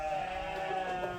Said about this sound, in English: you can hear the sheep